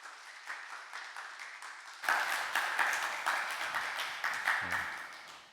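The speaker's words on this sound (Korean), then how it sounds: "박수 한번 크게 보내드리겠습니다" A church congregation applauding during a Sunday service: light scattered clapping at first, then a sudden swell into louder, fuller applause that keeps going to the end.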